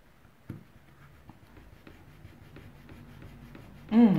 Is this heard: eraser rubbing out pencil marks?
yes